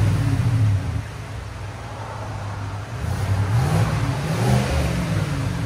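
A 2024 Chevy Tahoe 5.3L V8 idles and revs in a few low, rumbling swells, fairly muffled and steady, with a whirring hum of hot cooling fans underneath.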